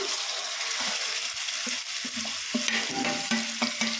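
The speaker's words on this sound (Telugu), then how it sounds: "ఇది ఉల్లిగడ్డ పచ్చడి వేసేస్తున్నాను" Onion chutney hits a hot cumin tempering in the pan and sets off a steady, close sizzle, with stirring scrapes and small clatters running through it.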